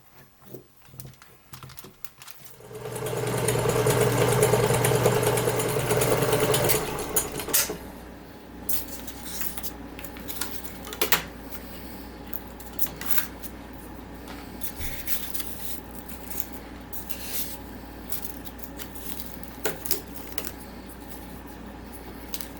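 A small container of model paint is shaken hard, giving a loud, dense rattling burst that lasts about four seconds, then stops and leaves quiet scattered clicks and taps.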